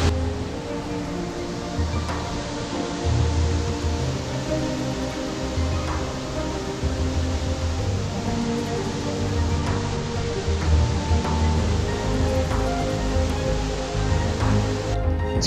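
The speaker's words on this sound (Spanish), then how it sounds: "les presento la cascada La Brava." La Brava waterfall in the Puracé highlands roars in a steady, dense rush of water that stays loud and unbroken throughout, with no voices over it.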